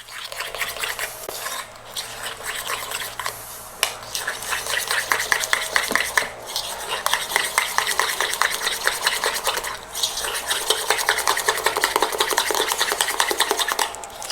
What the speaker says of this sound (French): Il suffit juste de mélanger énergiquement jusqu'à atteindre une pâte homogène.